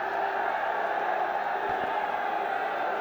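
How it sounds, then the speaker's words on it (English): A colourful stadium crowd at a BPL 2025 cricket match between Fortune Barishal and Dhaka Capitals produces a steady, distant roar and murmur, with commentary talk over it. "Good crowd in for this game. Very, very colourful."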